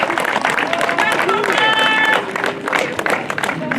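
A crowd applauds at the award ceremony of a French Cup enduro mountain bike race in Isola 2000, sustained clapping blended with cheers and a few whistles, with voices talking through it.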